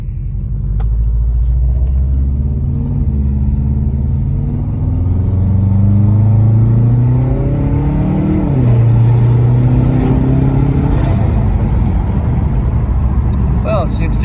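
Subaru Outback XT turbo engine accelerating hard with an adjustable blow-off valve fitted, its rising harmonic drone climbing through several gears, each shift a brief dip before the pitch climbs again, steady and loud from inside the car.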